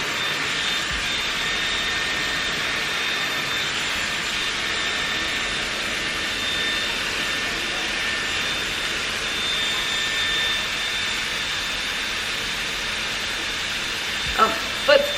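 A Dyson Airwrap hair styler blows a steady, loud whoosh of air on long hair, running continuously and close by, with a couple of brief handling clicks near the end.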